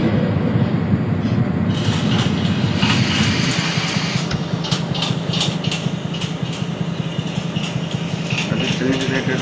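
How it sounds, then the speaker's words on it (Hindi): A simulated Patliputra Express train pulling into Phansidewa junction in Open Rails, rumbling wheels and engine drone with rhythmic clacks and sharp metallic ticks over the rails, steady and close. "हमारी ट्रेन फांसीदा जंक्शन पहुँचने वाली है, पहुँच गई है, बस रुकना बाकी है"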